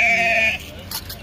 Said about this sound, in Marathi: बकरी घेऊन चाललोय दिराने